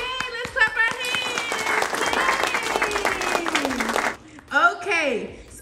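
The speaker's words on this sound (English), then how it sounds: "let's clap our hands" Family members clap their hands together in bright, fast applause alongside excited cheering voices, the clapping continuous for about four seconds before trailing off into a short vocal exclamation.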